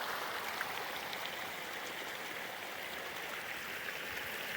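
Irrigation water streams steadily from a perforated pipe laid through a young maize field, a continuous close broadband rush with no pauses and no voices.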